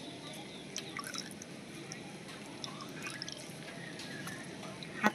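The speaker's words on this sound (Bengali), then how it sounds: "নেট দিয়ে এইভাবে করে ছেঁকে নিচ্ছি।" Juice for a homemade hair-darkening remedy drips through a net strainer, giving soft, irregular patters over a steady hiss at low volume.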